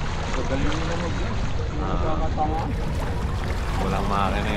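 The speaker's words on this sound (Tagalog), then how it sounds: "Walang makina yung hangin lang." A sailing boat moving under wind power alone with no engine, giving a continuous rush of wind and water noise against the hull, with people talking faintly in the background.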